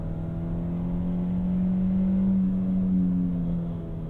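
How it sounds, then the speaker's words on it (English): A 2021 VW Golf MK7 with a six-speed manual drones at low engine revs while a faint flywheel chatter runs underneath, heard from inside the car as a steady, close hum that rises slightly and then settles. "You get a little flywheel chatter."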